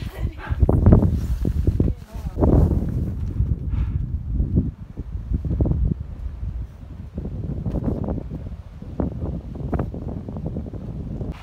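Strong gusts of wind buffet the microphone on a hiking trail, a steady low roar that swells and dips, while people talk close by.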